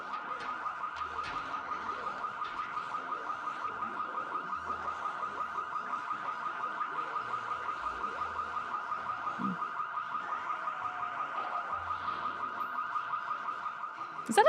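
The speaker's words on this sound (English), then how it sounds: "Is that a car alarm or a house alarm?" An in-game car alarm in the zombie survival game Project Zomboid blares continuously, a steady fast-cycling electronic wail holding at a moderate distance with no let-up for the whole stretch.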